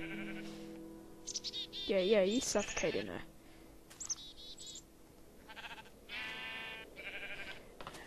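Minecraft sheep on a Tekkit server, stuck in a minecart, bleat loudly several times with wobbly cries, while someone talks between the bleats.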